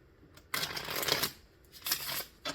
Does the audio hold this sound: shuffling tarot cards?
yes